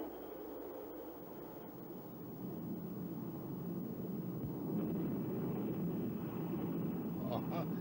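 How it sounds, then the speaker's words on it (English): An English Electric Lightning jet going to maximum reheat, a deep, roaring jet thrust that builds and swells louder over several seconds, partly under talk. "The pilot now selects maximum reheat."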